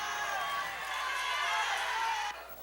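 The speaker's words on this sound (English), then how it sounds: "At a packed Yankee Stadium, the crowd roared for Winnie Mandela." A packed Yankee Stadium crowd roars for Winnie Mandela, a dense, sustained wall of cheering and shouting that holds steady before dropping off near the end.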